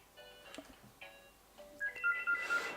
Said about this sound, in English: my phone is ringing, which is very annoying right now